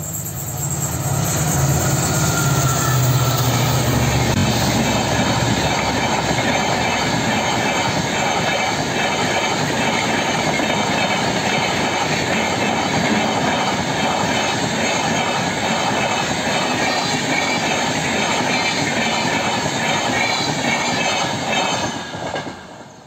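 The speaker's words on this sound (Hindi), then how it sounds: "और इत्तेफाक से अभी ट्रेन भी आ रही है यहाँ पे" A Konkan Railway train rumbles past a railway crossing on the Mumbai–Goa line, a loud, close, sustained roar of wheels and wagons with rhythmic clatter throughout, fading slightly at the very end, with no talking.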